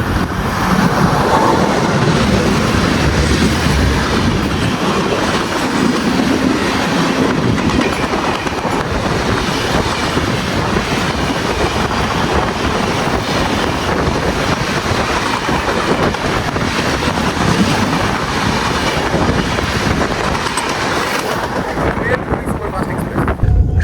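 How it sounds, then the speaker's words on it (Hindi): The Puri Superfast Express rushes past at close range with a loud, continuous roar and rhythmic rail clatter, buffeted by wind noise, while people talk excitedly underneath. "Puri superfast express crossing."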